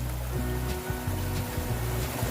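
A hiker wades through a shallow rocky stream, boots sloshing and splashing through the water in steady uneven steps, close and continuous over the rushing flow of the creek.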